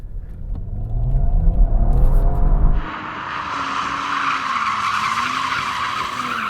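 An Audi RS4 launching hard with tyre spin, its engine roaring loudly up close before the sound shifts to a sustained squeal and rumble as it pulls away.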